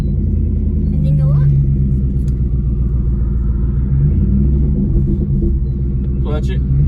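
A scrap hauler's engine hums and rumbles steadily throughout, rising and easing as a kid works the gas and clutch, with an adult coaching over it.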